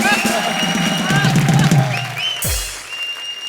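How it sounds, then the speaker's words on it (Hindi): A studio audience on a comedy show claps and cheers in a loud, dense burst with music underneath, ending abruptly partway through, then quieter room sound follows. "जोरदार तालियां।"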